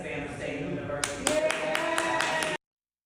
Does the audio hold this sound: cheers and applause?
yes